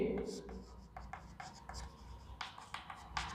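Chalk or marker scratching on a classroom board in short strokes, repeated bursts of writing under a teacher speaking in Hindi during an English grammar lesson.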